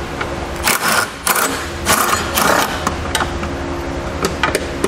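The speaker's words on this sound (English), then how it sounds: "we'll first start by taking out this 10mm bolt, and then we can remove the 17mm bolt" Bolts of 10mm and 17mm are worked loose from the frame rail of a 2016 truck, giving a run of close metallic clicks, clanks and ratcheting taps in uneven bursts, with no talk.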